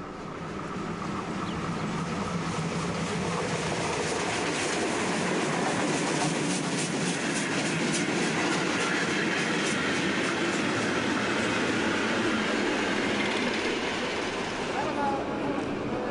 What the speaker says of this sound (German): Bei Rheinfelden vor Lübeck legt sich die kleine Tenderlok in die Kurve.